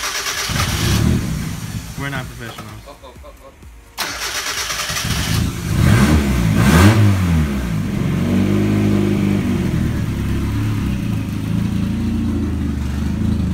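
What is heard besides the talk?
turbocharged Mazda Miata engine first startup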